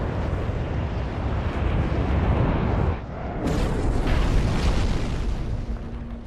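Explosions in the mech game Armored Core VI rumble as a dense, roaring wash of booms and blasts, loud and sustained, with a sharper burst near the middle.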